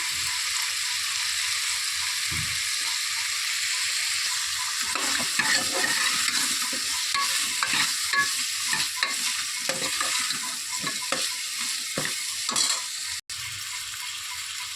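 Jackfruit seed sambar masala with turmeric powder being stirred and fried in a pan, a steady sizzle under repeated scraping strokes of the spoon, close and continuous with no talking.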